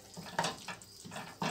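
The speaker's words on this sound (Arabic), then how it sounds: "توا البنات نصب لها شويه ماء" Water poured into a cooking pot of tomato-based stew, splashing in several short bursts with pauses between them, close and moderately loud, no talking.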